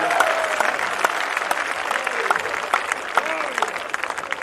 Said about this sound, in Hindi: एक बार तालियां बजा दो उनके लिए।